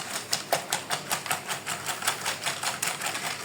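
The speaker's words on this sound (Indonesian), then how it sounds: "Sekarang kita kocok sampai agak berubah warna ya." Margarine mixture for crunchy egg-coated peanuts is beaten until it changes colour, producing quick, even rhythmic clicking and tapping at about four beats a second, close and steady with no voices.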